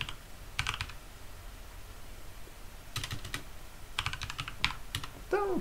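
Someone types on a computer keyboard while writing a simple Python program at the command line. The keystrokes come in short, quiet bursts of close clicks separated by pauses.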